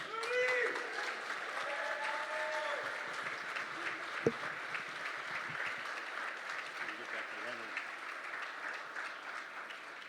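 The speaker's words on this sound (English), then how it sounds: "Ladies and gentlemen, nice round of applause" Room at the Youngstown Press Club Hall of Fame and Awards Dinner gives Hall of Famer Len Rome a round of applause, steady clapping from a dinner crowd with a few voices and whoops over it, moderately close and even.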